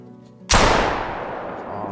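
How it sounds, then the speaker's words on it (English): A single loud shotgun blast from a duck hunt in the video game theHunter: Call of the Wild, sharp onset followed by a long fading roll, with no talking. "Alright, take out the shotgun."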